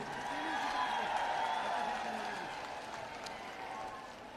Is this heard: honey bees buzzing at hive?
no